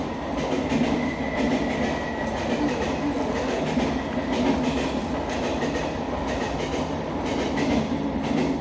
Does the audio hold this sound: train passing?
yes